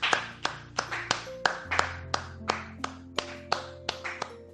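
A church congregation claps in a steady rhythm, with sharp, even beats about three per second over a sustained musical tone, close and moderately loud.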